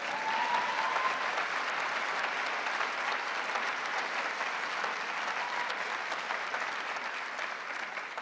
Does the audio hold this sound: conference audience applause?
yes